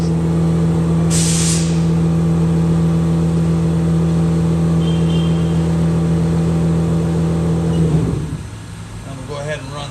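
A 2005 Haas Super Speed VF4 APC vertical machining center spindle spins steadily at about 6,000 RPM, giving a loud, even, continuous whine and hum that cuts off near the end, with a brief hiss early on.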